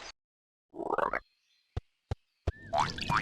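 Frog croaks from a Winnie the Pooh video game: a low burst of croaking, three short sharp croaks spaced apart, then a denser croaking stretch with a rising call, close and fairly loud.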